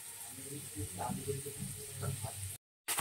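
Bhola fish frying in a pan, a steady hissing sizzle with soft crackles running under a quiet voice, cutting briefly to silence near the end.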